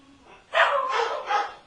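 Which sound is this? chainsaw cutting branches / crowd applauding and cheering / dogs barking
dogs barking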